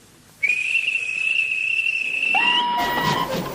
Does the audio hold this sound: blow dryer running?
no